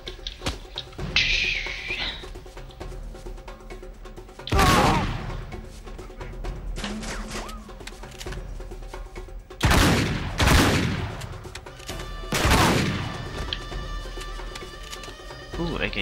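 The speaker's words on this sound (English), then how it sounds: "AK-47." Several bursts of AK-47 rifle fire in Uncharted 3, three or four loud broadband volleys spread across the span, over a busy game soundscape with music and talk in between.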